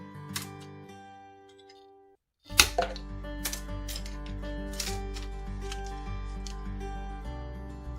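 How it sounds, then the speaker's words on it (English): Sharp, scattered snips and clicks come from painted, lightly sanded bamboo sticks being trimmed to length for a Christmas wreath, heard close up over a steady musical background. "I measure the length of the wreath and I trim 5 sticks down."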